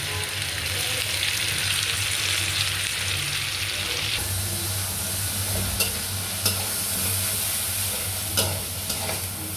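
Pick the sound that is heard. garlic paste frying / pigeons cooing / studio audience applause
garlic paste frying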